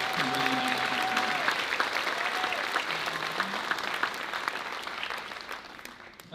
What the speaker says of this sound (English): give a round of applause to all of these people